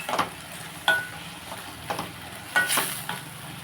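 Onions for a mushroom curry sizzle softly in a pan while being stirred, with a few distinct scraping strokes of the spoon rising above the quiet frying hiss.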